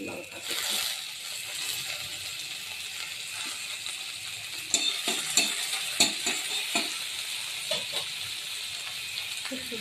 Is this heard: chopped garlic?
yes